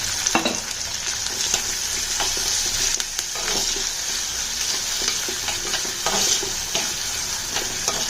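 Salted onions sautéing in a pan toward golden brown for jackfruit seed kara kuzhambu, giving a loud continuous sizzle with irregular scraping and tapping from stirring, close up and free of voices.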